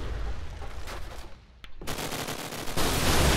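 Gunfire from a competitive shooter video game match at a LAN playoff, with dense bursts of rapid shots, a short lull, then renewed loud automatic fire building to the end.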